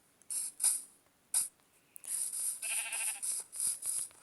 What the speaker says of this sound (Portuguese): Nossa, tem muita ovelha aqui, gente.